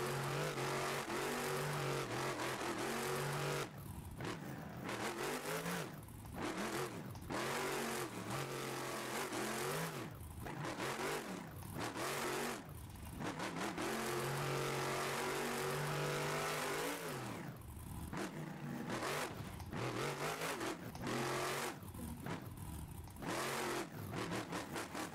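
Truck engine revving hard and accelerating out of the gate at a freestyle event, loud and continuous with repeated throttle surges and wavering pitch sweeps, no talk.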